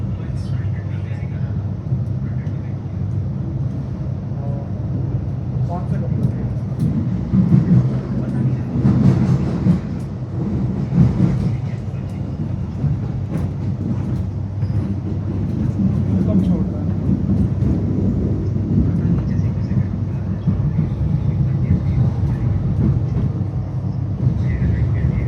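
A Melbourne Mernda line suburban train pulls into Clifton Hill station with a steady, loud rumble of wheels and motors that holds throughout, swelling slightly in the middle as it slows.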